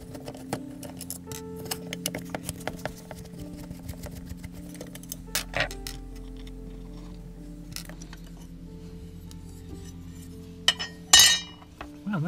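Small clinks and taps of glass and metal parts come during the teardown of a dead Quans 10W UV LED lamp, with scattered light knocks over a low hum and a sharper clatter near the end.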